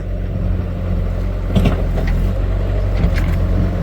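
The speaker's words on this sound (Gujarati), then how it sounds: "આ બાજુ ટ્રેક્ટર આવે કે" Tractor approaching on a farm: a steady, loud low engine rumble drones on continuously, with a few faint clanks above it.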